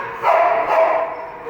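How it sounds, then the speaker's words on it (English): Several dogs barking at once inside the Cuyahoga County Animal Shelter, a dense, echoing burst of yaps and barks lasting about a second, fairly loud with no speech. "It's going to be noisy in here today because we have a lot of dogs."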